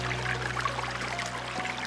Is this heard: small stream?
yes